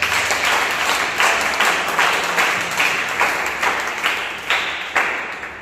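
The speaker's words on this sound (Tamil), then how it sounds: "கைத்தட்டு தெரிஞ்சவன் புரிஞ்சவன் கைத்தட்டு" A church congregation at a Sunday service claps in steady, evenly spaced beats, about seven or eight loud rhythmic claps in a row, fairly close.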